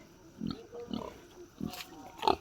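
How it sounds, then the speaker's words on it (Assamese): A sow that has just given birth to piglets grunts in a farm pen, a few short low grunts spaced about half a second apart, near and fairly faint. "এই গাহৰিজনীয়ে 2 ঘণ্টামান আগতে পোৱালি দিলে।"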